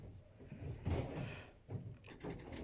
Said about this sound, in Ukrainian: Чуєте, як вони розносять клітки?